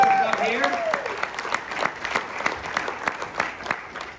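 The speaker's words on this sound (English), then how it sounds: "Go ahead and give him a round of applause up here." A crowd claps for a graduating senior at a senior recognition event, a steady round of applause with sharp individual claps, starting under a voice and continuing alone.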